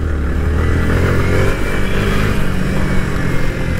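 Loud, close motorcycle engine revving hard during a street race among bikes such as a KTM Duke 250 and Yamaha MT-15, a dense, steady roar that fills the clip with no talking.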